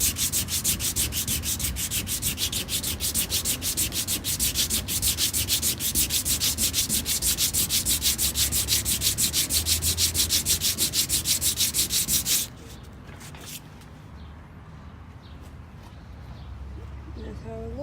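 Body filler on a car body is sanded by hand in fast, rhythmic rasping strokes, loud and close for about twelve seconds before easing off into softer scraping, with a voice talking over it.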